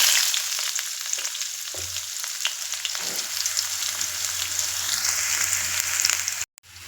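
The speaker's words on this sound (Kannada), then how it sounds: "ಈಗ ನಾವು ಅದಕ್ಕೆ ಹೆಚ್ಚಿಟ್ಕೊಂಡಿರೋಂಥ ಈರುಳ್ಳಿಯನ್ನು ಸೇರಿಸೋಣ" Chopped onion frying with urad dal in oil for aloo bonda makes a loud, crackling sizzle with a few low scraping stirs, constant and close, ending in a sudden cut to near silence.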